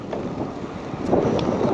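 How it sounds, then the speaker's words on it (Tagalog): Steady outdoor wind rushes and buffets against the microphone, a continuous broadband roar that swells slightly toward the end, with no speech. "Medyo mahangin nga lang ngayon, no?"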